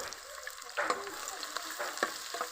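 Chopped onion with ginger and garlic paste hits hot oil for vegetable fried rice, sizzling steadily up close with brief scraping stirs and crackling bursts.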